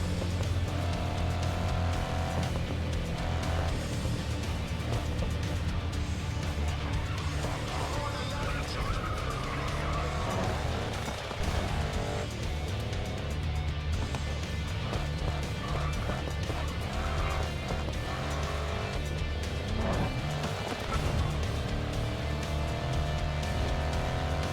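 Ferrari race car engine in GRID Legends, a steady loud drone of high-revving motor and tire noise running continuously under persistent talk.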